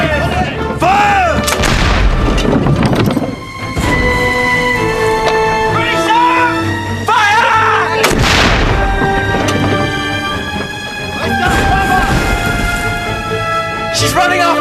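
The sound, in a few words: ship's cannon firing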